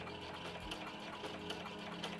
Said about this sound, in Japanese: 先ほど作ったパターンのトップの周囲にミシンで縫いました